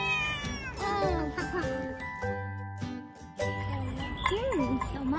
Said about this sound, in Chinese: 那个也是小猫。